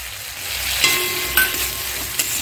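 Kashmiri red chili powder and tomato paste being stirred in a frying pan for a vegetarian Bengali potato curry, with a steady broadband sizzle and a few light scraping clicks of the spoon, close and without talk.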